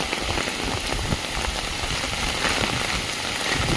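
Steady rain pours down at a village house, a dense, continuous hiss of drops striking surfaces close by, with no voices.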